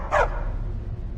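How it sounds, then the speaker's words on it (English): A single sharp dog bark from a video game set in Skyrim, loud and close, followed by a low, steady ambient hum with no voices. "Don't mind the dogs. They get anxious when they haven't had dinner."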